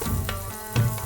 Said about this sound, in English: to splutter, sprinkle in the cumin seeds